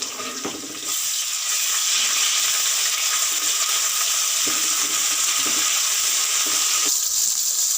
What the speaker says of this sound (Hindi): प्याज तकरीबन ब्राउन हो गया, अब हम इसमें लहसुन अदरक का पेस्ट ऐड कर लेते हैं।